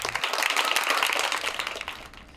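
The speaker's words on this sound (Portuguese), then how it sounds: "os alunos terminam as atividades assim, respeitando e aplaudindo a natureza" Students applauding outdoors at the end of their school activities, a brisk crowd of hands clapping steadily and then tapering off toward the end.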